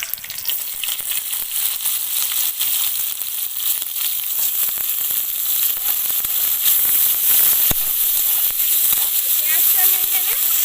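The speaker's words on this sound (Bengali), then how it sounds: "পেঁয়াজটা আমি এখানে একটু লাল লাল করে ভেজে নেব" Chopped onions fry in hot mustard oil with whole garam masala and five-spice seeds, giving a loud, dense, continuous sizzle and hiss throughout, with a voice talking over it.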